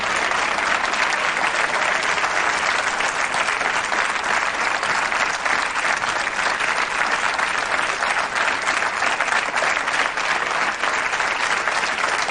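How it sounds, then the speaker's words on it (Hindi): Studio audience on a television quiz show applauding a winner of 25 lakh rupees, loud sustained clapping that fills the room evenly without a break. "और तालियां बजती रहनी चाहिए"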